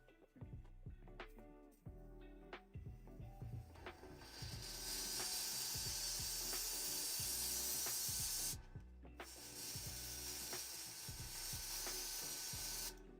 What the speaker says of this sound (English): just a quick spray of blue.